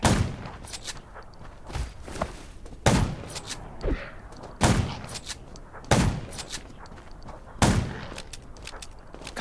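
Repeated gunfire in the zombie survival video game Undawn, loud sharp shots arriving in irregular bursts roughly every second or two, with thuds between them and no talking.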